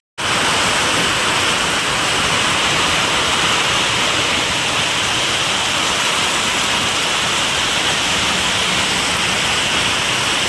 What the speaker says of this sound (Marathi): बघा द्राक्षांच्या प्रत्येक गल्लीमध्ये पाऊस चालू मित्रांनो